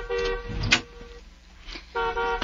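A car horn blares in a couple of short honks with traffic noise between them, fairly close and loud.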